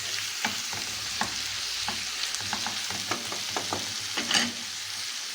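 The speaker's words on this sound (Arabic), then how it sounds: "وهقلب كويس كده" Beef and onions frying in a pot for an Egyptian meat-and-onion tagine, stirred with repeated scraping strokes over a steady close sizzle, no voices.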